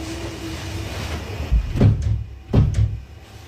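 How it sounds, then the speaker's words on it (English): A door knocks and bangs into its frame in a horror-styled house, two or three heavy thuds with a short clatter, close and loud over a low rumbling background. "You can hear the door clicking and banging into the frame"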